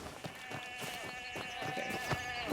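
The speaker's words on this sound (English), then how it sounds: "What am I supposed to do with these sheep?" Sheep bleat in a video game over a steady bed of tonal background ambience, with short wavering calls repeating at moderate volume.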